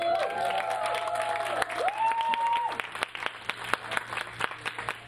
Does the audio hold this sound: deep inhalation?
no